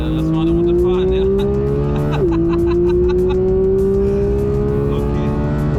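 Porsche GT3 sports car engine running loud and steady with its pitch climbing, a sharp shift at about two seconds and again near the end, accelerating continuously throughout.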